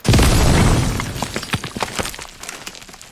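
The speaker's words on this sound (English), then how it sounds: "no one's leisurely walked through and broke all 13 massive glass panels yet" Massive glass panels shatter in a video game house, a loud burst of breaking glass followed by a scattered tail of smaller cracks and tinkling shards settling over a few seconds.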